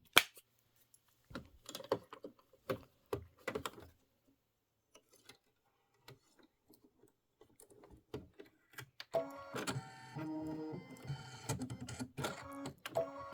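A Kimberbell embroidery machine stitching a Christmas house gift box design on linen, running as a steady, dense mechanical buzz through the second half after scattered clicks and handling noises earlier.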